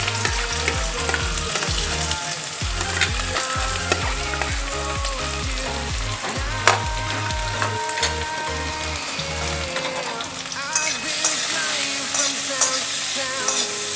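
Peanuts and black cumin frying in hot oil in a pan while singara filling is being made, a loud continuous crackling sizzle with rhythmic stirring knocks in the first half, no talk.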